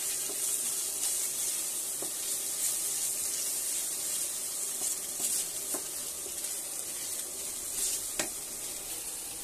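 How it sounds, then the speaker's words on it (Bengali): Ginger garlic paste frying at one side of a large nonstick wok, a constant close sizzle with a few soft stirring scrapes and taps. "আদা রসুন পেস্ট এখানে দিয়ে ভেজে নিচ্ছি এরই এক সাইডে"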